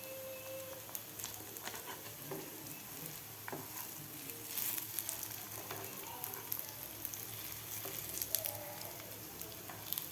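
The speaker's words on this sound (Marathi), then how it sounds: "खालून व्यवस्थित आपले हे कटलेट फ्राय झालेले आहेत" Beetroot and potato cutlets frying in a pan over medium gas, a steady close sizzle with soft crackles and occasional small pops throughout, with no voices.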